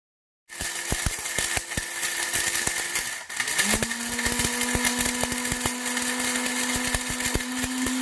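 Electric blender grinding dried temulawak rhizome into powder: a loud, steady motor whine with rattling chunks, starting abruptly and shifting pitch partway through as it runs on alone.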